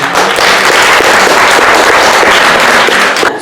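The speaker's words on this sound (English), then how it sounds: "We get a round of applause for Tristan." An audience applauds a speaker at a talk, a loud, dense wash of clapping that holds steady throughout before cutting off at the end.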